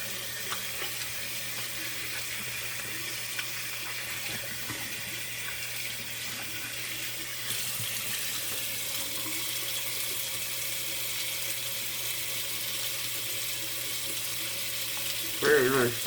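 Tap water runs steadily from a faucet to rinse off after a shave, a constant broadband hiss throughout with a brief louder splash near the end.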